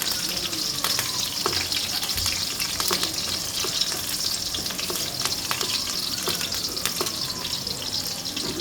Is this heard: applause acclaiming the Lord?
no